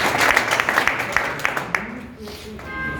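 Applause from a seated audience at an RCM business meeting, with a burst of clapping that fades out after about two seconds, leaving quiet room tone.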